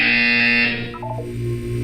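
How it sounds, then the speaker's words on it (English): A buzzer in the Portal 2 video game sounds during a gymnastic wellness exercise. It is a loud, sustained electronic tone that cuts off after under a second, followed by a lower hum and a short descending series of beeps. "When you hear the buzzer, look up at the ceiling."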